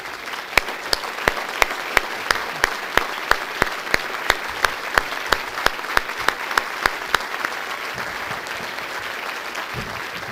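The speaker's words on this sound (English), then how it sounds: "Would all of them please stand so that we could give them a round of applause?" A hall audience applauds individuals at a Chicago Housing Authority address, a dense round of clapping with a few sharp, louder claps standing out near the front, sustained for about ten seconds before thinning.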